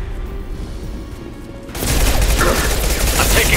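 Dense gunfire in Mass Effect 2 erupts suddenly halfway through, loud, continuous bursts and blasts filling the second half after a quieter stretch of ambient game noise.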